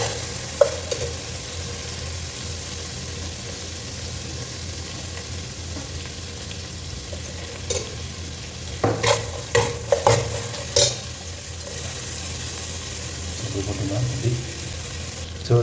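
Green chillies and onion fry and sizzle in a pan for mutton gravy, with a steady crackle broken by several louder stirring scrapes in the middle; no talk.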